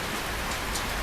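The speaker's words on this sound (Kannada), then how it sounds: "ಮಳೆ ಬೇರೆ ಐತೆ" Steady rain falls during a zipline outing at a tea estate in Wayanad, a dense, even hiss of drops on surfaces that holds close and constant for the whole second with no voices.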